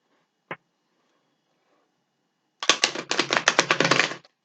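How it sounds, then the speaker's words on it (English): A deck of tarot cards is shuffled during a card reading: one sharp tap, then after a pause a quick riffle of crisp, rapid card flutters lasting under two seconds, close and alone. "let's give it a shuffle."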